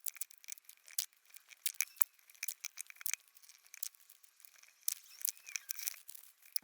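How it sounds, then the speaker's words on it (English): Tape being pulled off a roll and wrapped around a Gibson Les Paul Studio guitar on a workbench, with quiet, close, irregular crinkling and tearing bursts that keep going without pause. "I need to tape up the guitar, so here's my tape."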